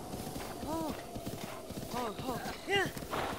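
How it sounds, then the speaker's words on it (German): A horse galloping in the video game The Legend of Zelda: Breath of the Wild, with rhythmic clip-clop hoofbeats and short whinnies rising above a steady rumble, and a voice talking along with it. "Ich mag das Pferd. Ist ziemlich schnell."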